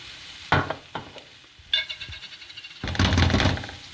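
Onion and pepper frying with tomato paste in a pan, with a few sharp spatula knocks followed by bursts of sizzling as the mixture is stirred, loud and close.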